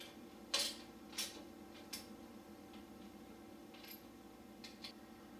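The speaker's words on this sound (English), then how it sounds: "go ahead and use your ratchet and torque them down kind of evenly" Ratchet tightening four 4mm Allen bolts on a Pro Moto Billet Fastway rotor guard, KTM 300 XC dirt bike, heard as a few sharp separate clicks, three clear ones early then fainter ticks, over a steady low background hum.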